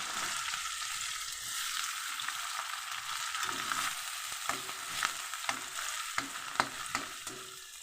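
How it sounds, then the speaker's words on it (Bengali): Chopped onions sizzle steadily in hot oil in a pan, a continuous bright hiss with occasional sharper crackles and stirring clicks toward the end, close and fairly loud with no voices. "এই পেঁয়াজটা আমি খুব সুন্দর করে ভেজে নেব"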